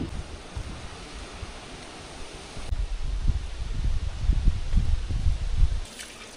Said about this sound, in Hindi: बाहर बड़ी तेज़ हवाएं चलने लगी हैं